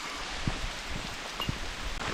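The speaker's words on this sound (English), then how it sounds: "the rain's picked up even more now" Rain falls steadily on a hiking trail along the Kumano Kodo in Japan, a soft continuous patter with a few nearer drips landing close by.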